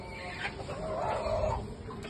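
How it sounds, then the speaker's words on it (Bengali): Young hill rooster crossbreeds bred with local hens cluck faintly at a farm, a low scattered murmur of fowl sounds with no one talking nearby. "এই যে কিছু মোরগ, পাহাড়ি মোরগের বাচ্চা"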